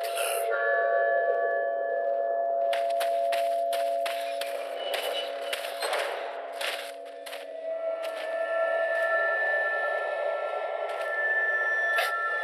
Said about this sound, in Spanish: con un poco de suerte y la ayuda de Ada, la campana de la iglesia suena y todos los aldeanos se van